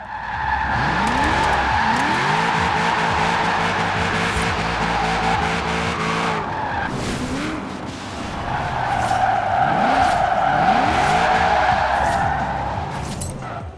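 A 1945 Jeep Willys MB tuned for all-wheel-drive drifting in Forza Horizon 4, its engine revving and rising in pitch under long, loud tire squeals that fade briefly and then return.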